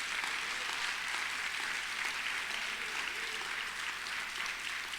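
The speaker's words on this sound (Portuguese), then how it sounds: "Dá um aplauso para o nome de Jesus" A church congregation applauds in a dense, continuous wash of clapping that holds steady throughout, heard from within the room at moderate level.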